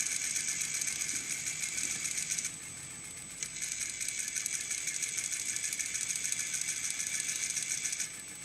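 Sewing machine stitching a vest seam, a continuous close mechanical whir and rattle that runs the whole time with a slight dip in the middle, no talking.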